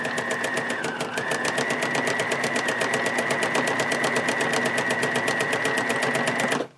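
A sewing machine runs steadily, stitching along the folded edge of a fabric planner pencil bag, its fast even needle rhythm loud and close for several seconds before stopping abruptly.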